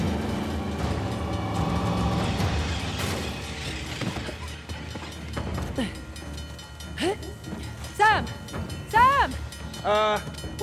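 A train runs in the video game Uncharted: The Lost Legacy, a rumbling rolling clatter under shouted character voices, with metallic squeals and ratcheting screeches rising near the end.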